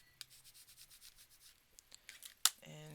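A sticker being burnished down by hand, with soft, quick rubbing strokes in a close, quiet rhythm, then a sharp scrape and a brief faint voice near the end.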